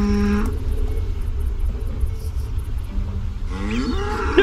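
A cow in The Witcher video game gives a loud, drawn-out moo of about four seconds over a low game rumble, with a short tonal game sound at the start.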